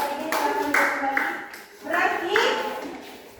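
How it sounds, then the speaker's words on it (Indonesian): Students in a coding and AI classroom lesson applaud a group presentation, with a short burst of clapping from many hands nearby, fading and then rising again as a voice speaks over it. "Tepuk tangan dulu untuk kelompok gerak."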